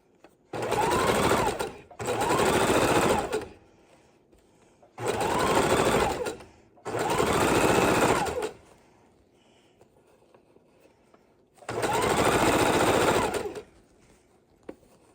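A sewing machine stitching its loosest zigzag through leftover quilt batting, running in five loud, steady bursts of a few seconds each, with quiet pauses between them.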